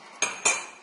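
Two quick metallic clinks of a small utensil against a dish while a yogurt sample is mixed, close and crisp with short ringing decay.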